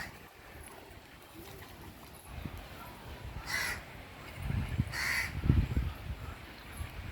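Crows caw at Vedanthangal Bird Sanctuary in Tamil Nadu, a few calls rising over wind and a low rumble, moderately near and growing louder toward the end.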